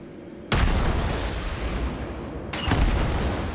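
Heavy naval guns of the Tier 8 cruiser Mikhail Kutuzov in World of Warships fire twice, a loud booming salvo followed about two seconds later by another, each trailing into a long rumbling roar.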